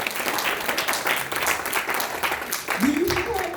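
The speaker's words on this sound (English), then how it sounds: "Give another round of applause to Miss Hattie." Audience applause for Miss Hattie, dense steady clapping from a crowd throughout, with a voice rising briefly over it near the end.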